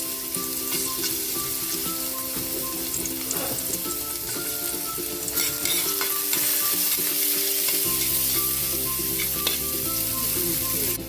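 Garlic sautéing in hot cooking oil for a Filipino ginisang sayote, with a steady, loud sizzle and occasional stirring scrapes running continuously throughout.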